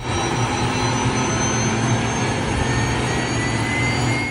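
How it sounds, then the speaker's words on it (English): A tank's gas turbine engine whines and roars at a steady, loud level, sounding much like a jet, with a high tonal whine over a deep rumble. "They pretty much sound like a jet when they start up and when they're running."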